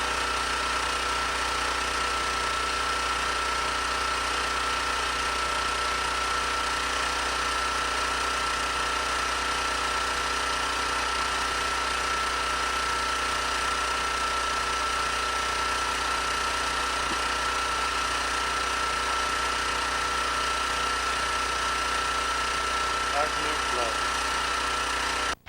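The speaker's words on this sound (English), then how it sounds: "It's my little standby generator." A small standby generator engine runs steadily throughout, a constant droning hum with a strong steady tone, heard during a 1993 wildfire in the Topanga area.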